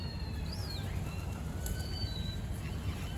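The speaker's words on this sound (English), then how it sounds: "there's birds appearing from everywhere here" Pigeons gather by a river in a town centre at feeding time, with faint coos and chirps and soft wing flutters over steady outdoor rumble and wash. No one speaks.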